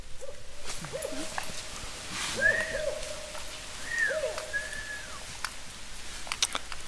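Several clear rising and falling whistled notes from people whistling, some in short pairs, over a steady outdoor hiss with faint background noise.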